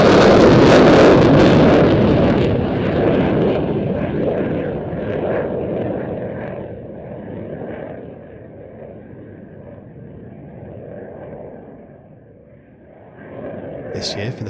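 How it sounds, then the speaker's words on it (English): An RAF Eurofighter Typhoon from 29 Squadron, a Tranche 2 jet, flies a solo display at Roskilde Airshow. A loud jet roar passes close, then fades to a distant rumble with wind noise, and voices are heard throughout. "The Royal Air Force also dispatched its Typhoon solo display from 29 Squadron, with Squadron Leader Nathan Scheuer at the"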